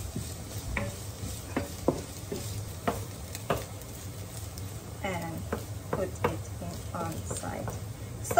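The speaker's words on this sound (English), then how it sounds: "Cook the onion until it becomes like a transparent." Onion frying in a pan for tom yum fried rice, a low steady sizzle with intermittent stirring scrapes and taps, close by, while a person talks over it.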